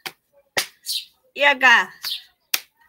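Hands clap and slap in a rhythmic clapping game, a few sharp separate smacks spaced apart, close and crisp, interleaved with a person speaking in between.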